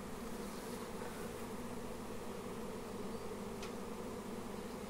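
A honeybee swarm moving from an ash tree into a hive gives off a steady, dense buzzing drone that stays loud and unbroken throughout, with no voices.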